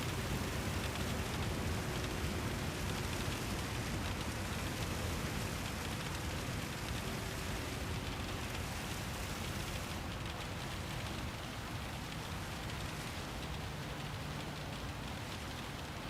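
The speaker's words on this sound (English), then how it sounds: "Wow, I was not expecting the rain to hit." Rain during a Gran Turismo 7 race, a steady, dense hiss of falling water that runs unbroken for the whole stretch, with a faint low drone underneath.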